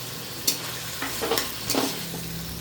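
Soaked chickpeas are stirred into vegetables frying in a pan for a banana-flower curry, giving a few scraping spoon strokes over a low sizzle, close and fairly quiet.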